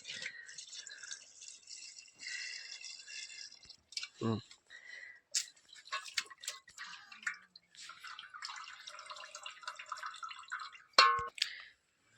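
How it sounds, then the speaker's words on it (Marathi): Water is poured into a pot of mutton for washing before cooking on a wood-fired chulha, with intermittent splashing and trickling, a few sharp clatters of the pot, and no talking. "आता पातेल्यामध्ये पाणी टाकून घेऊत"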